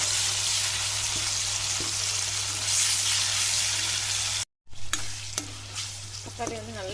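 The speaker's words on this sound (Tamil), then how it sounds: "தக்காளி சேர்த்து நல்லா வதக்கிடுவோங்க" Tomatoes sautéing in a pan for beef sukka, with a steady, loud sizzle, a brief cut of silence, then quieter frying with scraping stirs and spoon clinks.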